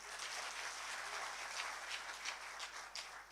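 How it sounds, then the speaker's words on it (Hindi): Sustained audience clapping at an Independence Day Hindi poetry gathering in Ghaziabad, a dense steady patter of many hands heard from a distance, fairly soft, without talking. "ताली बजाइए।"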